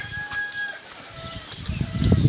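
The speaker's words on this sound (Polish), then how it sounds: "Tutaj mamy kury." Chickens in a backyard poultry run cluck and squawk in short bursts, fairly close, with scuffling and rustling growing louder toward the end.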